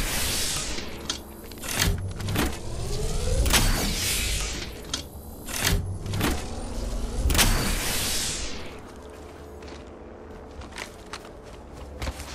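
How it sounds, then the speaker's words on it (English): A shield charges in the Apex Legends video game: a whirring charge-up tone that rises and falls, mixed with clattering game mechanisms, metallic clicks and scraping, busiest early and then settling down. "Charging my shield."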